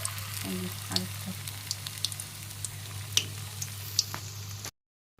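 Battered pumpkin flowers deep-fry as pakoras in hot oil, giving a soft, continuous sizzle with scattered small pops and crackles that stops abruptly near the end.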